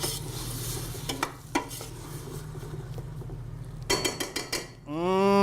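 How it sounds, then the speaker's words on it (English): Vegetables stirred in a sizzling pan, with scattered utensil scrapes and clinks over a steady hum of frying, ending with a voice speaking up close. "I'm going to toss these in. There we are. Give it a little stir."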